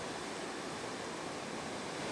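Snow Creek waterfall beside a campsite, a steady, full broadband rush of falling water that holds constant and close throughout, with no voices over it.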